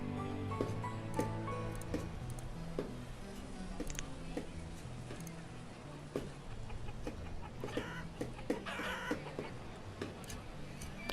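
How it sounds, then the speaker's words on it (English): Chickens cluck repeatedly in the town-building game Banished, a busy, fairly loud layer of short fowl calls sounding over steady game ambience and music throughout. "these chickens are loud"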